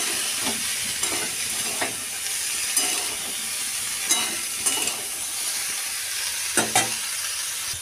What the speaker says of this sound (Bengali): আলু ফুলকপি আর মটরশুঁটি পেঁয়াজ একসাথে নাড়াচাড়া করে নেব।